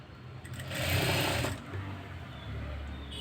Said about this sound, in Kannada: ಪೈಪಿಂಗ್ ಮಾಡೋ ವಿಧಾನ ಇದು ನೋಡಿ